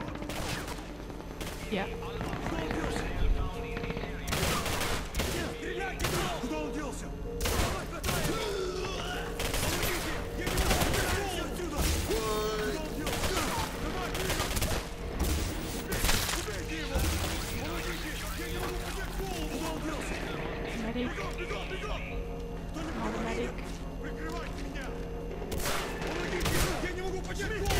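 Repeated gunfire bursts in the shooter Singularity, including shotgun blasts, crackling loudly through the scene while someone talks over the shooting.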